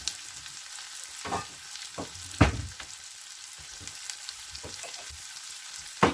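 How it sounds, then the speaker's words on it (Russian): Food sizzles steadily in a hot pan, with occasional scraping knocks of a utensil stirring, close and moderately quiet. "все у меня жарится вместе"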